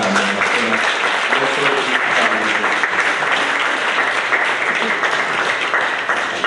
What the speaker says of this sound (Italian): vorrei che facessimo un primo applauso a loro